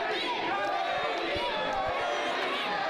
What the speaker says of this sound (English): You hear the crowd starting to get behind Teddy Hart there now